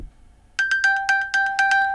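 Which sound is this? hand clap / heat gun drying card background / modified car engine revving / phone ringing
phone ringing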